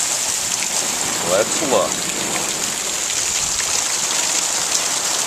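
A heavy rainstorm pours steadily onto a house patio, a loud, continuous hiss of rain striking the surface throughout, with a person speaking briefly partway through.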